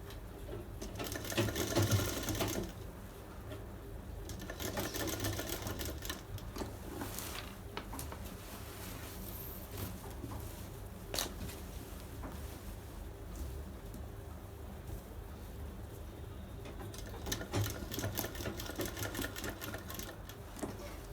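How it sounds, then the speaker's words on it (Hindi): A sewing machine runs steadily for about twenty seconds, stitching lace onto a bridal sharara set with stones, its close, continuous mechanical whir rising slightly at the start and end, with no talking. "स्टोन को ध्यान से देखते हुए इसको सिलाई लगाएं ताकि सुई ना टूटने पाए।"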